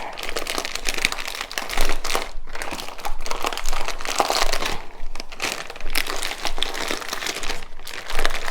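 A plastic bag crinkles and rustles loudly and continuously as hashbrown casserole ingredients are squeezed and mixed inside it, with irregular crackling bursts and brief pauses.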